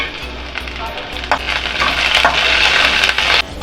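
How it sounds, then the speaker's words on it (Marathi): Whole spices (cinnamon, black pepper, cloves, black and green cardamom) sautéing in hot oil for Nagpuri tarri pohe, giving a close, steady crackling sizzle with scattered sharper pops and no voices. "हे सुद्धा आपण ह्याच्याबरोबर तेलामध्ये परतून घेणार आहोत"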